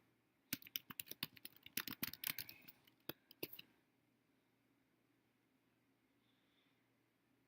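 Someone types a short burst on a computer keyboard during an online game, a quick run of crisp, close key clicks lasting a few seconds, followed by quiet room tone.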